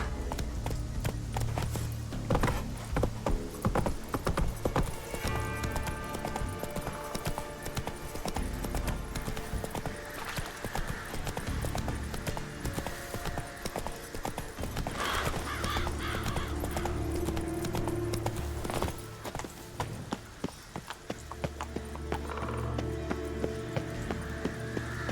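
The horse Roach gallops in The Witcher 3: Wild Hunt, a rapid, continuous drumming of hooves over a busy game soundscape, with a brief lull near the end and crows cawing now and then.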